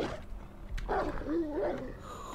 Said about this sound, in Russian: Я слышу волк.